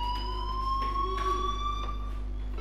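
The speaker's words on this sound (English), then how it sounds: "Hey, do you hear that fire alarm?" A steady electronic fire alarm sounds in the Life Is Strange video game, a continuous high tone that holds its pitch, loud and close, with a faint low hum underneath.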